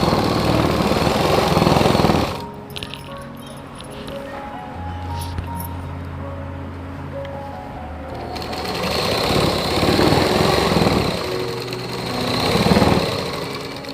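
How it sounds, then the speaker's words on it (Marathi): Sewing machine stitching close along the edge of a blouse: a fast mechanical clatter starts and stops, then a quieter stretch with a low hum, then the rapid stitching rises again, close by with no talking. "कडेने शिलाई मारून घ्यायची"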